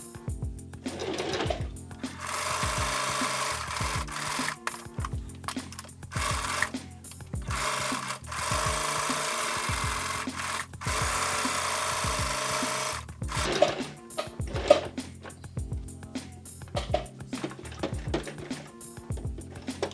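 A sewing machine stitching a tote bag, running in bursts of steady mechanical whirring that stop and start again, with short pauses and small handling clicks between the runs.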